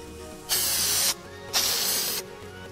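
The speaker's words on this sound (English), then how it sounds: "I'm gonna go ahead and spray our spray here." Two bursts of hissing spray from a spray bottle, each lasting about half a second with a short pause between, close and crisp over a quiet background.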